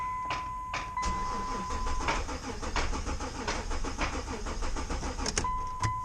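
A car that won't start cranks over in a repair shop while its fuel pump runs, a rhythmic repeated churning of the starter under a steady whine, with short warning chimes at the start and end.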